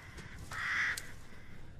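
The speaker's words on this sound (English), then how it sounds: "these birds is really getting on my nerves" Crows in Resident Evil Village give a single loud harsh caw near the middle, over low ambient game noise with faint clicks around it.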